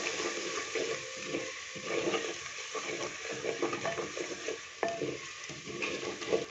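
Spices, including crushed red chilli and salt, are stirred and roasted in a pan for a turnip, potato and pea curry. A continuous close sizzle runs with rhythmic scraping of the spoon against the pan.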